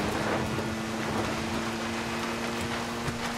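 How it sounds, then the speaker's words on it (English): Rain in the Far Cry 6 video game near a swamp, a soft, constant patter and hiss over a faint steady hum, with no talking. "Damn, rain."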